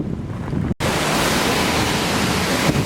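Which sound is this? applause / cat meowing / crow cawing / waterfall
waterfall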